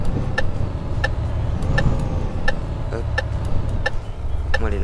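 Renault Magnum truck driving in Euro Truck Simulator 2, a steady low engine drone with a continuous road rumble and regular faint ticking clicks over the top, near and fairly loud, with no talk.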